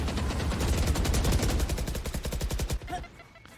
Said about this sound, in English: First few shots fired, but they're not going to make it happen.